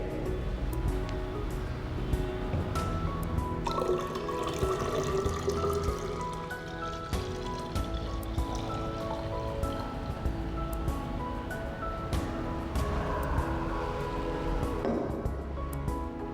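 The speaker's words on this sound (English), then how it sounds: "We now pour this 500 milliliters water into this 1 liter measuring cylinder." Half a liter of water is poured into a 1 liter measuring cylinder, a steady continuous trickle that runs throughout, with sustained tonal sounds underneath.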